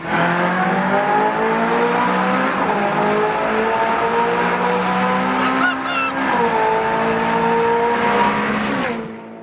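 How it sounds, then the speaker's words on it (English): A Ferrari California accelerates hard through a tunnel, its engine note climbing steadily through the gears with reverberant echo, loud and close, with a brief gear change around the middle and the sound cutting off at the end. "as you approach, drop a couple of gears. And the moment you go into it, give it everything."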